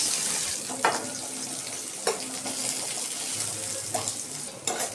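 Garlic, slit green chillies and onion are frying in oil in a pan, giving a steady close sizzle with a few sharp clinks and scrapes of stirring spaced through it.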